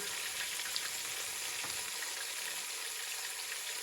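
Pork loin sears in a hot pan for a crockpot pineapple recipe, producing a loud, continuous close-up sizzle with no voices over it.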